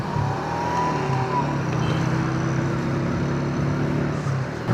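A car engine idles steadily after being started following a breakdown, a low continuous hum held throughout, with faint voices in the background.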